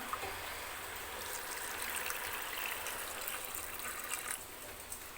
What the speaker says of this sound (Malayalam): ഇനി നമുക്കതിലേക്ക് ചെറു ചൂടുവെള്ളം ഒഴിച്ചു കൊടുക്കാം